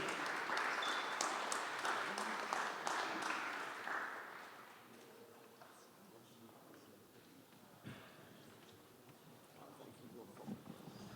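Applause at a digital territories forum in Paris, moderately loud at first and then thinning into scattered claps and murmuring crowd noise, with some low rumble throughout.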